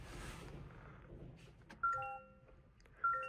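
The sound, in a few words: Toyota Camry startup chime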